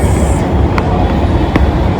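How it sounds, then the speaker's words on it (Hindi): A metro train rumbles through a station, a loud continuous low roar with a couple of brief sharp clanks, no voices. "अभी हम पहुंच चुके हैं अपने कॉलेज के नियरेस्ट मेट्रो स्टेशन पे"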